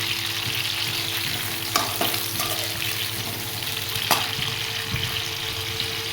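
Boiled amla fries in a pan for pickle, giving a continuous near sizzle broken by a few sharp stirring scrapes and knocks.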